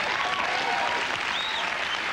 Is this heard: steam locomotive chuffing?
no